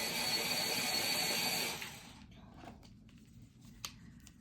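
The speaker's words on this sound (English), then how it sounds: "Let me sharpen this pencil here." A yellow colored pencil being sharpened, a steady close scraping, grinding rasp that runs for under two seconds and then stops, leaving quiet room tone with a few faint clicks.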